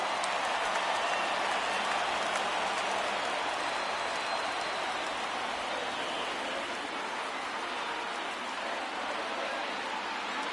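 Steady roar of a stadium crowd cheering in a PS4 baseball video game as the count runs full, a dense, continuous wash of noise holding loud throughout with no distinct voices.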